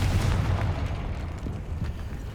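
A spell explosion in the video game Hogwarts Legacy sounds as a heavy, rumbling magical blast with a booming low-end burst that fades and is followed by a few smaller crackling pops.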